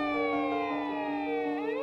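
A fire engine siren wails loud and close during the Noto earthquake aftermath in Japan, its pitch sliding steadily downward as the truck passes.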